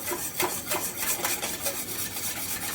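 Chocolate cake ingredients stirred together in a bowl for a creamy Christmas chocolate cake, giving a steady rhythmic scraping and rubbing with repeated strokes, close up and moderately loud, no voices.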